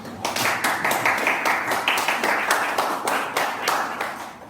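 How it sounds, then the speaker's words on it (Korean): A congregation at a Thursday praise worship service claps in thanks, producing a loud, steady rhythm of sharp hand claps from a group that continues evenly for several seconds. "말씀 전해주신 목사님 다시 한번 감사 박수 한번 드립니다."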